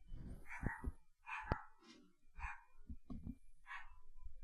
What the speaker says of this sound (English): You hear some dogs outside